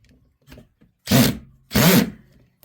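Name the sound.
drill driving screw into wood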